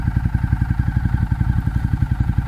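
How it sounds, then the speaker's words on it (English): A 2012 Ducati Diavel's Termignoni exhaust pops and throbs in a fast, even rhythm, loud and close, a deep pulsing rumble under throttle. "And under throttle, the exhaust sounds amazing."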